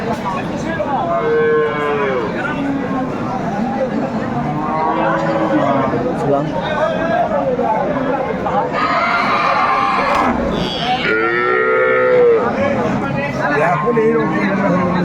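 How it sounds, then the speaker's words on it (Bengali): Cows and calves of improved dairy breeds moo repeatedly at a busy rural cattle market in Dinajpur, several loud nearby calls rising over crowd chatter and people talking. "চমৎকার গাভী বাচুন"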